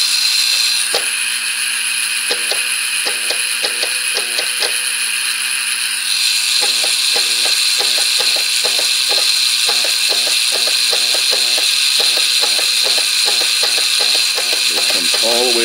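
Small antenna rotator motor rotating until it hits its stop, giving a steady electric whine with rapid rattling, clicking mechanism pulses throughout, loud and close.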